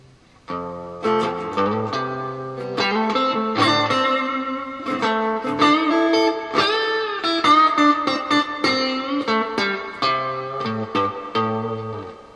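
Clean electric guitar plays chords and single notes that ring out with a spacious reverb tail, loud and close.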